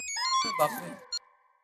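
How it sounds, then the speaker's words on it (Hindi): A short electronic phone ring with a steady tone and harmonics, briefly overlapped by a noisy burst, then fading out. "टप्पू के पापा का फोन है।"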